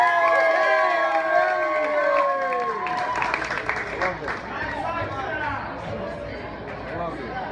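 A family crowd at a gathering cheers, shouts and makes noise together, loud and sustained, with whoops and voices rising over a dense wash of chatter and some clapping.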